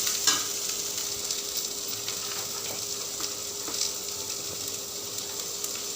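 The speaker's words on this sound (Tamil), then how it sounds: "உருளைக்கிழங்கு சேர்த்துட்டு இது நல்லா கிளறி மட்டும் விடணும்" Potatoes being stirred in a pan for a spiced tempering, with a steady low sizzle of frying and occasional scrapes and clinks of the spoon against the pan, with no talking.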